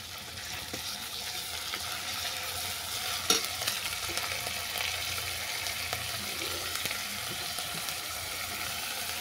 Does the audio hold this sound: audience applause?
no